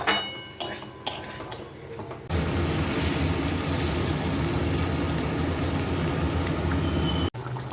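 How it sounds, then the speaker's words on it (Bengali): Water is poured into a pan of soya chunks, parwal and potato cooked in masala, giving a steady, loud rush and sizzle that starts suddenly after a few quiet clinks of a utensil and runs on evenly. "এবারে দেবো জল"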